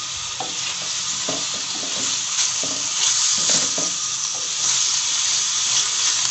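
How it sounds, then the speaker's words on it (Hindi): Macaroni sautéing with beef in a hot pan, a loud continuous sizzle and hiss broken by repeated scraping strokes of a spoon stirring through the pasta, heard alone without talk. "मैक्रोनी को मुझे डाल के थोड़ा सा इसको भूनना पड़ेगा।"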